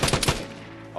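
A quick burst of three sharp gunshots fires in the survival shooter Vigor, loud and close, then a short ringing tail fading into quiet.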